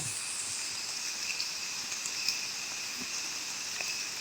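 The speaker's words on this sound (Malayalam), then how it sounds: "അങ്ങനെ പാറാപ്പുറത്ത് അങ്ങനെ മഴയും പെയ്ത് പെട്ട് നിൽക്കുകയാണ്." Rain falling on open rock outcrops in a rural hillside, a soft continuous patter with occasional sharper drops, steady and fairly faint with no voices.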